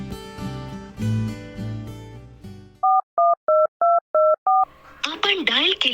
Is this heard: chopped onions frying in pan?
no